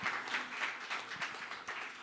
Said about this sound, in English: So just a big round of applause to Francisco